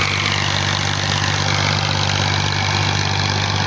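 A Massey Ferguson 240 tractor engine runs steadily while pulling a 48-blade rotavator through a field, a loud, constant low drone with no pauses.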